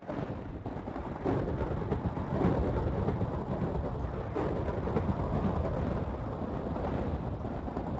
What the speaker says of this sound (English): Ooh, that was this nice light blue colored lightning.